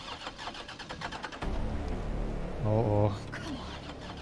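A car engine in the game Resident Evil 3 cranks and struggles to start, a mechanical turning-over rumble that swells briefly louder near the end, with a voice speaking over it.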